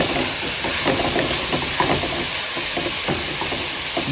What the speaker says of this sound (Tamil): தேங்காய் போட்டு நல்லா கலரிக்கோங்க